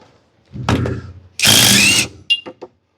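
A bolt spins out during PTO shaft repair on a Woods 720 Brush Bull brush cutter: a mechanical clatter, then a loud, steady whirring burst of about half a second, followed by a few short clicks, all close by.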